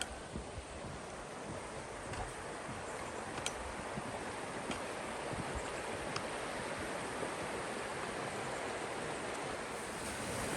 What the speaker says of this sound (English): So we'll look at the creek here.